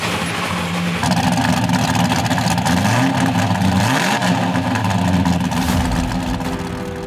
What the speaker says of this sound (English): That supercharged roar comes courtesy of a custom bent 3-inch exhaust system finished with a pair of Dynomax UltraFlow mufflers.